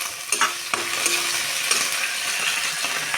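Onion, panch phoron spices and a bay leaf frying in hot mustard oil in a wok, a loud steady sizzle with scraping stirs of a spatula throughout, no voices.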